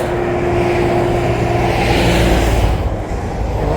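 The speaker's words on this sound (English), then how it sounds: "Oh, there's a little more traffic on this side." Traffic on Interstate 75, a loud continuous roar of vehicles passing close by with a steady engine hum and rising and falling tire noise.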